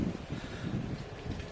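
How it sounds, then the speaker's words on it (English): Gusty wind buffets the microphone outdoors at an air rifle shooting range, a steady low rumbling roar throughout the short stretch with no talking. "since it's so windy"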